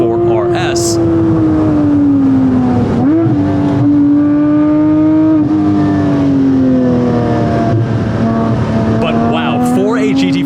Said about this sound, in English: The mods the owner has made, it's not quite the induction note of the GT4 RS, but this sounds way better than a regular GT4.